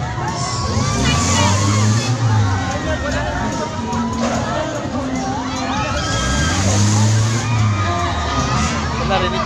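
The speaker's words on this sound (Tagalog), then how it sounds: "Narinig nyo naman siguro yung mga sigawan nila" People on an amusement park ride scream and shout in loud, continuous waves over a dense crowd babble, with rising and falling cries swelling twice.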